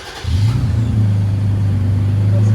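A Toyota Tacoma 3.5L V6 4x4 with a Borla Pro-XS exhaust revs up sharply, then holds a loud, steady, deep exhaust drone close by with no talking.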